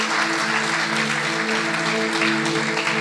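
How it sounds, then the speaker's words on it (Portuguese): A church congregation at a Christmas Day service applauds in a sustained, even wash of clapping over a soft, steady musical tone. "Você pode aplaudir o Senhor então?"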